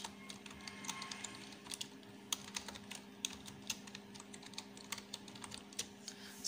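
Steady typing on a computer keyboard, a run of soft, irregular key clicks with occasional sharper taps, close and fairly quiet over a low constant hum.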